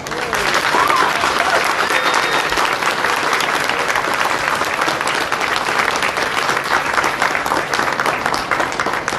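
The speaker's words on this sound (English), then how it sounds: "Can we give a big round of applause to Mark Breakers and the Labour team" A big round of applause fills a community event at the oldest Hindu temple in Victoria, in Basin near Melbourne, with loud, dense, sustained clapping from a crowd throughout.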